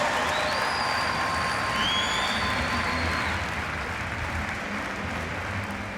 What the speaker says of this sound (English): a big round of applause for all of our 1500 swimmers